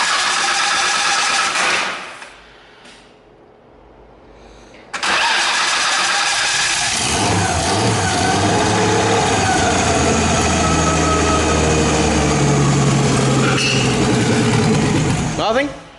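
An RB26 engine swapped into a Subaru WRX cranks, goes quiet briefly, then fires into a loud, rough, steady run with throttle blips close by, while people talk over it.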